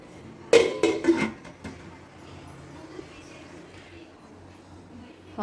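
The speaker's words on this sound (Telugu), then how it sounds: "మూత పెట్టేద్దామండి." A cooking pot of sambar vegetables gets its lid, with a quick cluster of metallic clanks and rattles near the start, then quiet room tone with faint stirring or shuffling.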